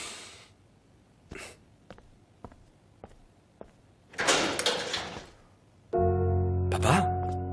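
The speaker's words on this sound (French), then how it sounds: "cette personne qui frappe à la porte" A run of evenly spaced, light knocks taps on a door, followed by a louder rustling burst as the door opens, then sustained musical tones take over.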